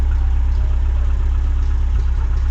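A car engine idles close by, a loud, steady low rumble that holds even throughout with no speech over it.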